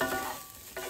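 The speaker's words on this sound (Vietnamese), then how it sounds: "Chiên cho thơm đây nha." Chicken breast sizzles in a hot pan, a steady crackling fry that stays close and fairly quiet throughout the short moment, with no voices over it.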